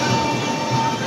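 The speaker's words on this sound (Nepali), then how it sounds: "ट्रेन स्लो स्पिडमा रहेको छ।" A train rolls slowly along the track near Ahmedabad, giving a steady rumbling drone with faint wheel squeal, heard close and continuous without any voices.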